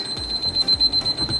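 Kitchen cooking thermometer sounding its target-temperature alert: a rapid series of short, high electronic beeps at a steady rhythm, close and clear, with faint kitchen background.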